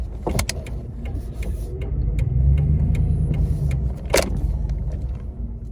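Truck engine running while driving, a steady low rumble that swells in the middle, with a few sharp clicks and knocks over it and no talking.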